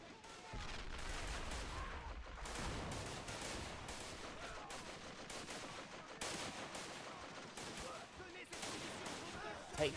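WW1 battlefield combat in a video game, with mortar fire and machine guns: dense, sustained gunfire and booming bursts over ten seconds, with a low rumble near the start and a sharp blast at the end.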